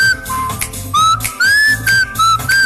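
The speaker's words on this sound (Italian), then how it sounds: "Arrivano messaggi, questo è il cellulare di mia moglie" Several short, high electronic chirping notification tones from a mobile phone, rising and repeating in quick bursts, loud and close, with no talking.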